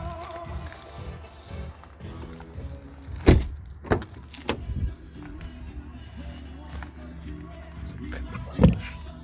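The powered electric tailgate of a 2019 Volkswagen Tiguan Allspace 2.0 TDI runs with a quiet motor whir, broken by a few sharp clunks and thuds, fairly faint overall.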